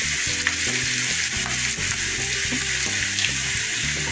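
Curry leaves and chicken liver fry in hot oil for a masala fry, producing a loud, continuous sizzle close up, with a low tonal hum running steadily underneath.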